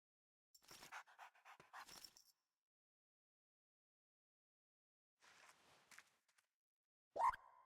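A dog pants and moves about indoors, its breathing and footsteps coming in two short bursts separated by silence, with a brief louder noise at the end.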